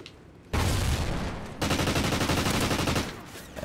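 MTAR submachine gun fired from the hip in Call of Duty: Ghosts, loud sustained automatic bursts in two long stretches separated by a brief shift, close and dense, with no talking.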